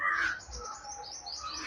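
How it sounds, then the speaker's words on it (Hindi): A cartoon crow gives short, bright bird calls in a quick, faint burst, heard alone with no talking. "कालू कौवा काँव काँव करते हुए आलस में आता है"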